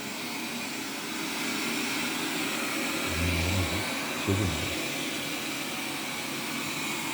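A steady, airy whirring drone of a Xiaomi Mi Robot Vacuum Mop Pro runs throughout, close by and constant, with a brief low rumble as it bumps across the floor.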